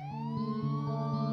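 Police car sirens from the horror video game Hillside Arcade wail with steady rising tones, fairly close and clear, with no talking.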